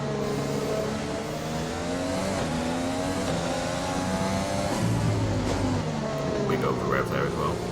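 High-revving Formula 1 car engine from the F1 2020 racing game at the Russian circuit, a steady loud whine with shifting harmonics and tire noise, under continuous commentary talk.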